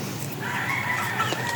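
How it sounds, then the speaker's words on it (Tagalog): A rooster crows nearby with a drawn-out call while hens cluck softly around it, no talking. "Yung mga manok ko."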